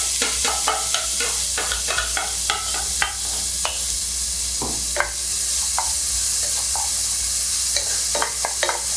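Minced garlic, ginger and onion stir-fried in a wok for a crab congee, a steady oil sizzle broken by repeated scraping clacks of the spatula against the metal, close and fairly loud with no talking.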